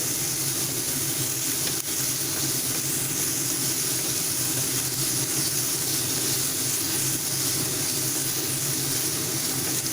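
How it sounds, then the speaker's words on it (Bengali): Boiled peas tossed and stirred in a pan for samosa chaat, with a steady, dense sizzling hiss running continuously at close range and no voices. "মটরগুলো অ্যাড করে দিচ্ছি একটু নাড়াচাড়া করে নিচ্ছি"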